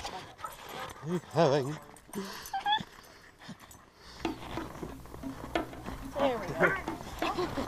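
Sled dogs on a dog sledding trip whine and yelp in rising, wavering cries, with a person talking nearby and the dogs' noise continuing under the voices.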